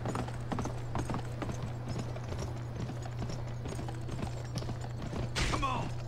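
A horse gallops in the video game Gun, its quick, even clip-clop hoofbeats running throughout over a low steady hum, with a brief whinny-like cry near the end.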